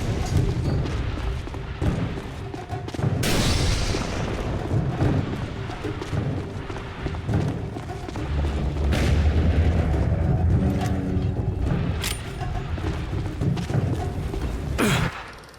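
Gunfire and heavy artillery blasts in The Bureau: XCOM Declassified, with loud booms and sharp cracks overlapping in a continuous barrage that runs for the whole stretch and ends with a final blast.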